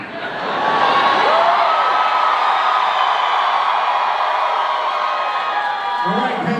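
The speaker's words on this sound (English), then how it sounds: "I want you to cheer louder about this announcement than you did about Anaheim." A large crowd at a Halloween Horror Nights announcement cheers loudly and continuously, with whoops and shouts swelling after a brief start and holding steady.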